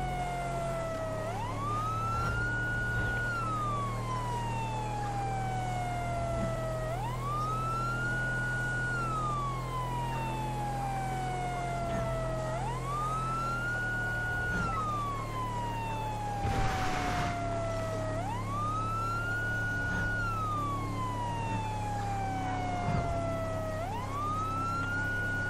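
Police car siren in the GTA V police mod LSPDFR, a loud wailing tone rising and falling in a slow, regular cycle over a constant engine drone, with a brief thump partway through and no talking.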